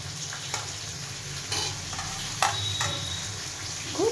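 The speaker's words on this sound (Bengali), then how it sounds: "এই যে কড়ার মধ্যে মাংস আমি ছেড়ে দেবো।" Duck meat fries in oil in a wok, giving a steady close sizzle broken by scraping stirs and clacks, with no voices.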